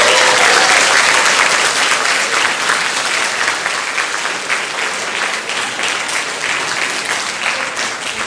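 Sustained applause from a concert audience for young instrumental musicians at a spring concert, a dense, steady wash of many hands clapping that stays loud throughout and eases off slightly toward the end.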